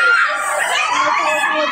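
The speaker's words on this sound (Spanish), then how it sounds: "Escucho gritos." Excited, high-pitched screams from several people in a lively crowd, blended with laughter and chatter, loud and sustained throughout.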